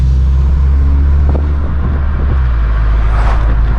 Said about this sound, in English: and it gets a nice exhaust.